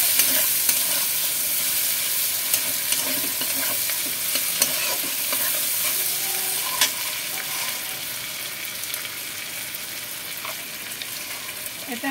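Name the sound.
tomatoes and capsicum frying and being stirred in oil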